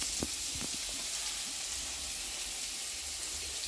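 Chopped onion drops into hot oil with fennel seeds, giving a steady, even sizzle and hiss throughout, with a few faint scrapes near the start.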